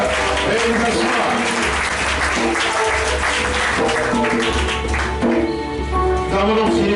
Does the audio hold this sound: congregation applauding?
yes